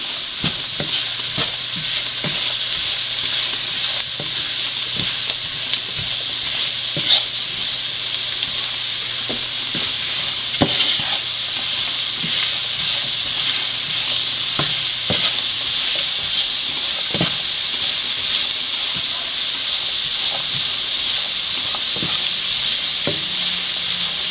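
Chilli powder and spices sautéing in a pan for a rabbit roast make a loud, continuous sizzle, with scraping stirring strokes and small clicks scattered throughout.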